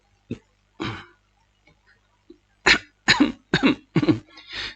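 A couple of isolated throat-clearing coughs, then a rapid run of five harsh coughs close up, with quiet gaps between.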